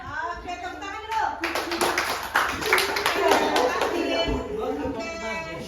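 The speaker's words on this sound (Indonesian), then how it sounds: "Oke, tepuk tangan dulu." A classroom of children clapping their hands together during a coding and algorithm lesson, a bright, busy patter of many small hands with voices talking and calling out over it throughout.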